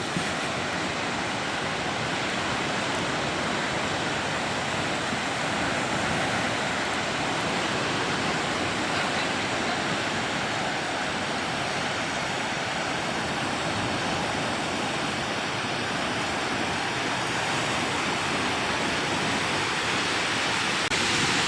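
Loud, continuous roar of surf, waves breaking in an unbroken wash of noise with no voices.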